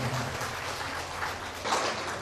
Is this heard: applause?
yes